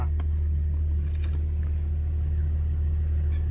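A car with a turbocharged Toyota 1FZ-FE engine pulls away, giving a deep, steady low engine drone heard from inside at close range that holds fairly even throughout.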